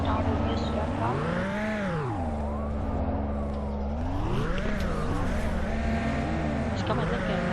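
Cars in a cross-country race in the Driving World video game rev and roar at the start, engines rising and falling in pitch with some tire squeal, loud and continuous, with a voice talking over it.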